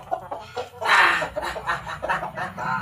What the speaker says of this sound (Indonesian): Ayam jago ini mah.